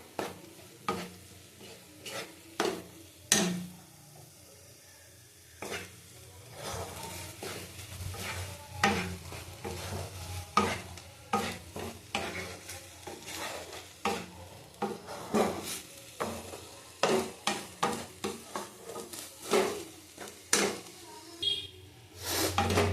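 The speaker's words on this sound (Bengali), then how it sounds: "দেখো এটা ভালো করে ভেজে নিতে হবে। যত ভাজবে তত কমে যাবে, সমানে নাড়া দিতে হবে।" Taro paste fries in a pan under steady stirring: a soft sizzle runs beneath repeated scraping and clinking strokes of a spoon against the pan, close and fairly quiet.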